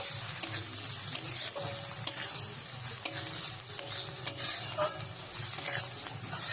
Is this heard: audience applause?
no